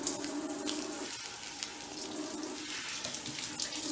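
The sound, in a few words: running water from kitchen tap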